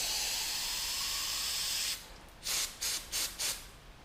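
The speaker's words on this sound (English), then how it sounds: "So I just use regular automotive brake cleaner, which is basically helps dissolve and clean out all that oil." Automotive brake cleaner sprays into an HVLP paint gun in one long continuous hiss, then four short sharp bursts in quick succession, all up close.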